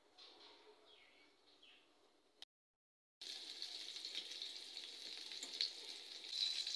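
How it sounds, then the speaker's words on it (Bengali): Oil goes into a hot kadai and erupts into a bright, crackling sizzle after a quiet gap, staying loud and steady with scattered pops. "এই যে দেখো কড়াইটা গরম হয়ে গেছে, আর আমি এখানে তেলটা দিয়ে দিচ্ছি।"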